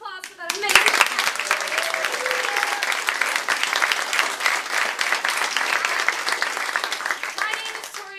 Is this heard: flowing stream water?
no